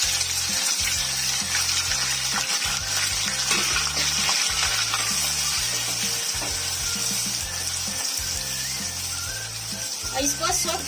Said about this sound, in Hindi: तेल गरम हो चुका है तो उसमें ये जो खड़े मसाले हैं ये ऐड करूंगी। और ये जो बारीक कटे हुए प्याज थे ये ऐड करूंगी।